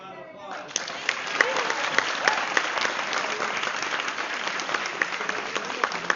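Audience at a convention voice-acting panel breaks into steady applause, a crowd's dense clapping with a few louder individual claps standing out, sustained after a brief lead-in.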